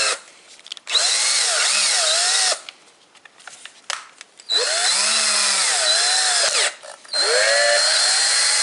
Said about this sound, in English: you can use the drill, you don't have to do it by hand